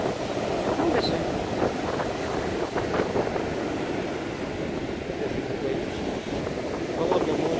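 Sea waves roll onto the beach at Scheveningen, a steady broadband wash with wind noise across the microphone, heard throughout as people talk quietly nearby.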